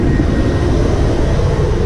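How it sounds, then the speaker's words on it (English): Airplane cabin noise in flight over the Atlantic, a loud, steady broadband engine roar filling the cabin without a break. "let's go for a little tour of the airplane"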